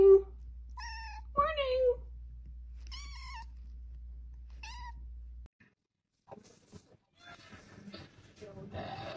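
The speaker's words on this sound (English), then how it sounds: "Then I have this cat who sounds like she smokes for 30 years" A cat gives several hoarse, raspy meows in the first half, drawn out and fairly close over a low hum, followed by someone speaking softly.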